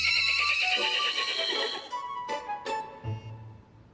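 A horse gives a long, shrill whinny that trails off, followed by a few short snorting bursts, close and clear in an animated children's story.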